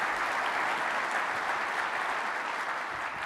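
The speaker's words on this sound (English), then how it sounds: "A big round of applause" Sustained audience applause at an onstage conference presentation, a dense, even wash of many hands clapping, moderately distant and steady throughout.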